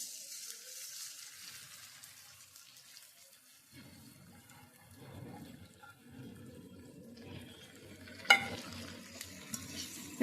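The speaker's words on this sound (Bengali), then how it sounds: "চালটাকে আমি ভেজে নিচ্ছি" Rice tossed in hot ghee with cloves, cardamom and cinnamon gives a soft sizzle at first, then steady scraping and stirring in the pan takes over, with one sharper clink near the end and no talking.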